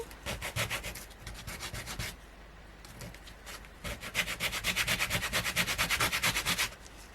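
Close, steady back-and-forth rubbing of sandpaper on a hard cast resin skeleton wing piece from a mould, in quick rhythmic strokes with a short pause in the middle.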